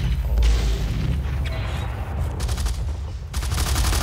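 Rifle gunfire in a Blacklight: Tango Down multiplayer match, heavy rapid shots and booming blasts rolling continuously and loudly through the whole stretch, with dense overlapping reports.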